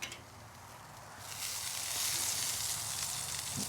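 Venison loins sear on a Weber kettle grill fitted with a Slow 'N Sear, a quiet hiss that swells into a strong, steady sizzle after about a second, close up with no talk.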